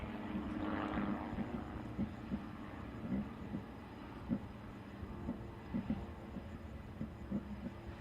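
Phillips 66 Aerostars formation aircraft performing a line abreast loop at an air show display in strong wind, a faint, distant engine drone with soft rhythmic pulses and wind noise throughout.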